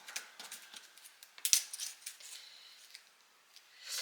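Paper being cut with a scalpel during a craft project for a scrapbook album, giving soft, scattered scratchy slicing strokes at close range that are faint and irregular, with a brief sharper scrape partway through and no talking.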